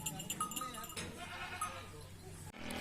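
Sheep and goats bleat faintly outdoors on a misty, cold morning. The calls are brief and scattered beneath steady wind-like noise and low background sound.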